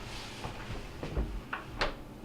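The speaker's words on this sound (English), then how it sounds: "So we're going to go ahead and close the refrigerator door and give it time to turn on and start cooling." A Whirlpool refrigerator door swinging shut, heard as a few close thumps and clunks with a firm final latch knock before quiet.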